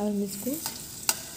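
Whole dried chilies, broken by hand, frying in hot oil for a mixed arhar and urad dal, giving a soft steady sizzle with a few sharp stirring clicks, while a voice speaks briefly at the start.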